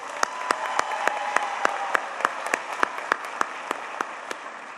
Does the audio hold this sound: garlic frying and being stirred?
no